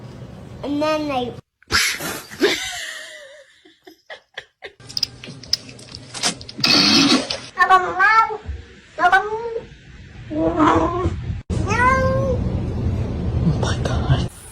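Young kittens give several high, rising meows close by, scattered among people talking, exclaiming and laughing, with some rustling and bumps between the cries.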